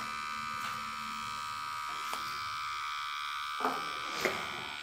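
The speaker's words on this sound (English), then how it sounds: "I'm turning on our tattoo machine." A Defenderr Fenix S wireless tattoo and permanent makeup machine runs at 5 volts with a 2.5 mm needle stroke, giving a steady, faint electric buzz with a few brief clicks near the end.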